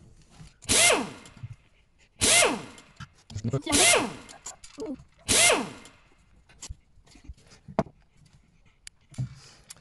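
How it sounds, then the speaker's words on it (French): Removing the carburetor float bowl screws on a pocket bike with a Phillips screwdriver; about four loud close bursts of a power driver whirring up and winding down, with softer clicks and handling noises between them. "Tournevis cruciforme et on ouvre"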